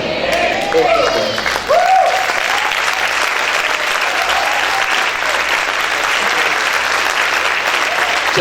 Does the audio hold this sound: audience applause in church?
yes